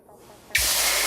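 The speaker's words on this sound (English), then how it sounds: "look at that sizzle." Water splashes into a hot pan of smothered pork chops, bursting into a loud, sustained hissing sizzle after a brief quiet moment, close and steady to the end.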